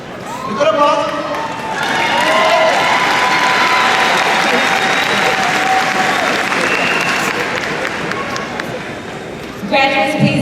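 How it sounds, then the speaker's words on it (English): A graduation audience at Proviso West High School breaks into loud, sustained applause and cheering that swells, holds for several seconds, then fades. "A good applause."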